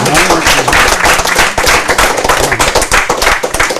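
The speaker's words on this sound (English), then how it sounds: "How about a round of applause?" Loud, close applause from a small group at a World War II veteran interview, dense rapid clapping that fills the whole stretch without pause.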